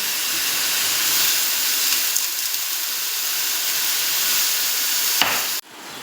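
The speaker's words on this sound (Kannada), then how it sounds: "ಚಿಕನ್ ಶುಂಠಿ ಬೆಳ್ಳುಳ್ಳಿ ಪೇಸ್ಟಲ್ಲಿ ಚೆನ್ನಾಗಿ ಫ್ರೈ ಆಗಬೇಕು" Chicken frying in ginger garlic paste gives a steady, even sizzling hiss that runs throughout before cutting off sharply near the end, with no voices over it.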